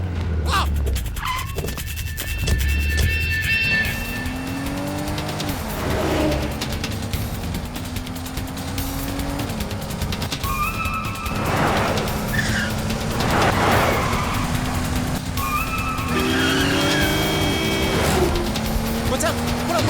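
A push-started car engine catches and revs, accelerating away beneath lively shouting and chatter from several men, with tire noise and rising engine tones throughout.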